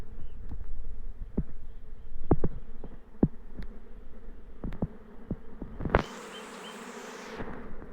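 Apis mellifera honeybees swarm out and fan through the open air, making a steady, full buzzing hum. Irregular thumps run through it, and a brief hiss rises near the end. Nobody speaks.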